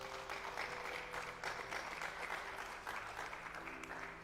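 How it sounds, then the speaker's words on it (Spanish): A church congregation claps together in a steady, fairly faint round of applause that carries on without a break. "Alguien denle un aplauso a Dios."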